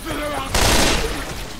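Gunfire in the co-op zombie shooter Left 4 Dead 2: a loud burst of rapid shots cuts in partway through, then trails off over game ambience and faint voices.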